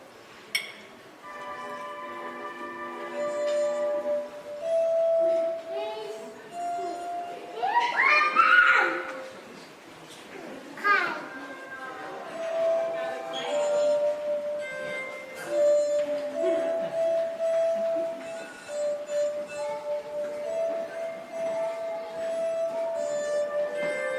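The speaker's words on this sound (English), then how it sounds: "So this is what he invented, the glass harmonica, probably the first musical instrument invented by an American." Glass harmonica being played: pure, sustained glassy tones ring out in a slow, soft melody, with a brief busier rubbing passage near the middle and bell-like notes lingering throughout.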